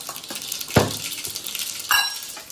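Mustard seeds and cumin sizzle in hot oil in a pan, a continuous close crackling hiss with a couple of sharp pops and clinks from a spoon or seeds hitting the pan.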